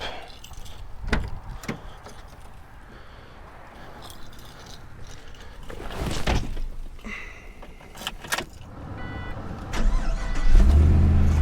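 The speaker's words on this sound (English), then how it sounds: "so I'm going to go ahead and start it up" Clicks, a door and jangling keys, then near the end a 2005 Pontiac GTO engine cranks and catches into a low rumble.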